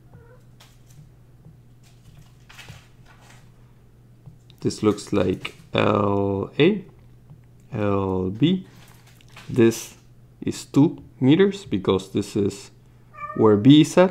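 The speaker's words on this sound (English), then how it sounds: "That was my cat" A pet cat meows several times, loud and close, with drawn-out, wavering cries heard among a man's speech during a physics lesson over a low steady electrical hum.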